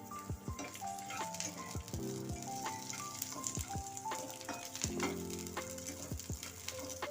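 Garlic and other ingredients sautéing in a pan for Maharashtrian thecha, steady sizzling and frying with repeated clinks and scrapes of a spoon stirring, close and moderately quiet, with faint tonal music in the background.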